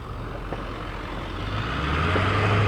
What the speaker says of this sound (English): It's like another truck coming through